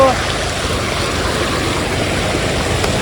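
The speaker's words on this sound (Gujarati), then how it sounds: "તમે જોઈ શકો છો પાણીનો પ્રવાહ જોઈ શકો છો." Water rushes along a canal during heavy rains in Gujarat, a loud, constant roar of flowing water heard close by with no breaks.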